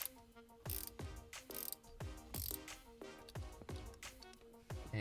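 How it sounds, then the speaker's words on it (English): A 12mm ratcheting spanner clicks steadily as it backs a bolt out of the shifter linkage on an 08-14 Subaru WRX, several close, crisp bursts of rapid pawl ticks repeating in a regular back-and-forth rhythm. "we're going to remove this bolt that comes through the center here. For that, we need a 12mm ratcheting spanner"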